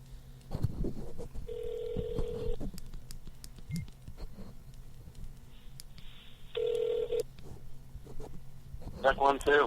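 Phone keypad tones sound in two short bursts, followed by a burst of rapid beeps at the end, all under and between ongoing conversational speech.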